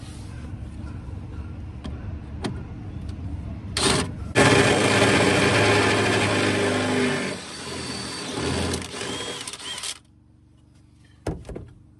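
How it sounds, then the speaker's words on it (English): A few sharp taps, then a loud, grinding power drill runs through a metal vehicle bumper bracket for several seconds, bogs down, whirs again and cuts off, followed by a couple of clicks. "so I need to drill through it"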